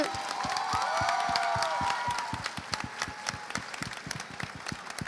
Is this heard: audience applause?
yes